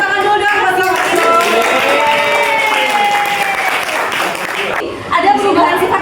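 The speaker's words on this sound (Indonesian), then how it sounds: "Beri tepuk tangan dulu dong buat Leo" A class gives a student a round of applause, with steady clapping under a voice that rises above it, and a brief lull near the end.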